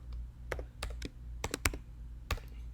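Typing on a computer keyboard, a string of close, crisp key clicks at an uneven pace over a low steady hum, with no talking.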